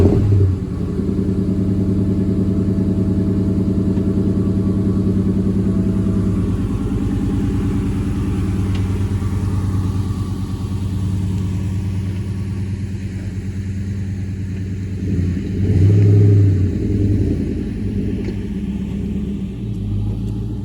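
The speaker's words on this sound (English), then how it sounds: "I'm going to move the GT over" A Mustang GT idles with a deep, steady rumble close by, swelling briefly with a short burst of throttle as the car is moved, then settling back; no voices.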